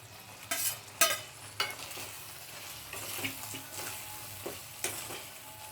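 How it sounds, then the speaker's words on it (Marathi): Salted okra being gently stirred and sautéed in a pan: a soft, steady sizzle under intermittent scrapes and clacks of stirring, close and fairly quiet. "व्यवस्थित कोट होईल भेंडी अशी ती अलगद हाताने परतून घेऊया"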